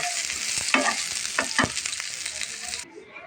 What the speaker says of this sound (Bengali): আর পেঁয়াজটা একটুখানি আমি হালকা করে একটু ভেজে নেব